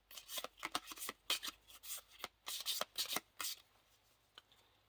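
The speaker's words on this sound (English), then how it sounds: "And the quest deck is these 7 quest cards, where you shuffle them all up." Small deck of seven quest cards from The Lord of the Rings card game being shuffled by hand, a quick series of crisp riffling bursts and taps, close and quiet, fading out at the end.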